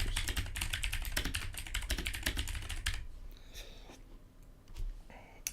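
Quick, close keystrokes tap out a short description on a computer keyboard in a rapid run for about three seconds, then give way to a few scattered clicks and quiet room tone.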